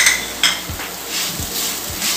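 Grated coconut and sugar stirred in a pan over a full flame, a spoon scraping and knocking against the metal in a few uneven strokes under a steady background hiss.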